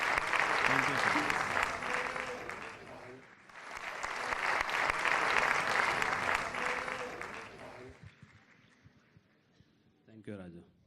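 A crowd at a Mahendra Kapoor tribute event with an award presentation breaks into sustained applause, swelling in two long waves before tapering off, followed by a brief spoken voice at the end.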